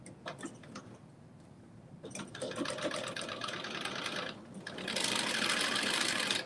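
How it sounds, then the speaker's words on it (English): A home sewing machine stitches a pair of dressy joggers at a slow stitch rate, its rhythmic mechanical ticking running continuously and swelling louder and busier toward the end. "I've kept this sewing machine at this lower stitch rate"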